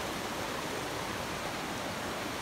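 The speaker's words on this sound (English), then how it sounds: "Welcome to the waterfall, Juco." Waterfall and rapids at Catarata Juco in Mastatal, Costa Rica, a dense, loud, unbroken roar of falling and rushing water filling the whole clip.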